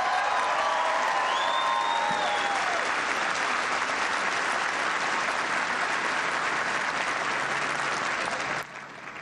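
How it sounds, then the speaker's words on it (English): Troops at a US Air Force expeditionary wing base in Afghanistan give a sustained, dense round of applause that fills the whole stretch, with a brief whistle early on, before it drops off abruptly near the end. "Give them a big round of applause."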